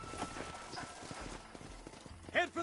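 Horses' hooves clip-clop at a slow walk in the Red Dead Redemption video game, soft and steady under a voice giving orders.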